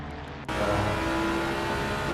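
On-board engine of a race car in a GT racing video game at Barcelona-Catalunya cuts in abruptly after a brief quieter moment, then holds a loud, steady droning whine with a rising tonal note.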